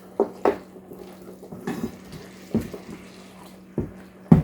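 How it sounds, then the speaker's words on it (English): A spoon scrapes and clinks against a pan while a meat mixture is stirred, giving several sharp knocks and soft scraping strokes at irregular intervals over a steady low hum. "I'm just going to give that a stir around"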